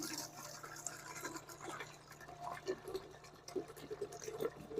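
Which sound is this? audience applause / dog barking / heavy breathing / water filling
water filling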